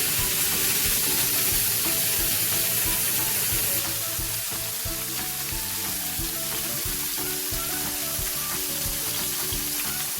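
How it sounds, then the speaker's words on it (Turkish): Loud, steady sizzling of onions frying in a hot grill pan, a continuous crackling hiss with small pops, no voices. "Soğanlarımızı arkalı önlü kızartacağız."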